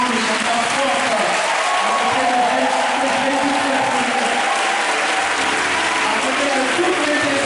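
A congregation at a Mass for the sick claps and cheers loudly and steadily in a dense, unbroken wash of applause that lasts the whole stretch without easing.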